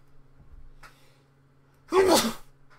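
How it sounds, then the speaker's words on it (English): A single loud, close sneeze bursts out abruptly after a stretch of quiet low hum and faint background noise, with a brief intake of breath before it. "Sorry for the sneeze."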